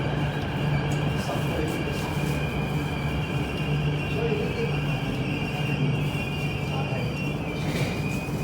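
A Q subway train rumbles loudly and continuously into Tin Hau Station, with steady low mechanical drone, faint metallic squeal and high whine, as if pulling in close by.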